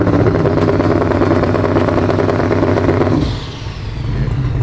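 A drag racing car engine at a Great Lakes drag event runs loud and close with a rough, throbbing idle, then cuts back sharply partway through to a lower, softer rumble.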